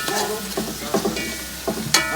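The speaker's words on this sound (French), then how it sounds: "Ah ben les épices avec l'ail et gingembre," Spices, garlic, ginger and chili frying in a pan, a soft sizzle with a few sharp clinks and scrapes of a utensil stirring, close by and without speech.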